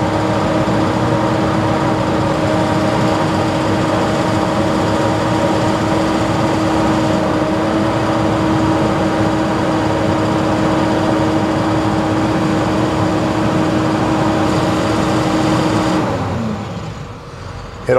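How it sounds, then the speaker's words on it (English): A diesel truck engine holding a steady high rev during a DPF regeneration test run from a Launch X431 HD III scan tool, droning loudly and evenly for about sixteen seconds before winding down at the end. "You'll hear the engine rev up."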